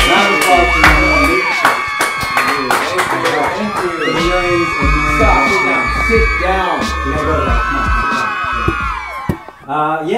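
An audience in a Hayes Valley, San Francisco venue cheers a guest, actor and model Nathan Owens, with loud whoops, shouts and yells from many voices close by, continuing throughout.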